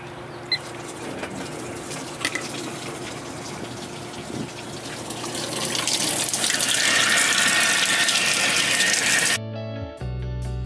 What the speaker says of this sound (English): we're gonna show you what a sheet of water takes on in 1 minute